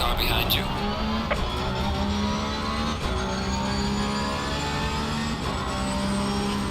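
A GT3 race car engine drones steadily in a sim-racing game, with repeated rising gear pulls and short shift breaks, loud and constant, while a voice talks over it.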